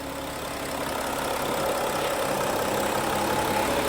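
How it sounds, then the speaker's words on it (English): Audi Q7 engine with a turbo underboost fault, in drive with the wheels lifted off the ground, a steady loud mechanical roar that swells slightly as it revs, with no voices. "And then while you're stepping on the brake pedal, rev it at the same time."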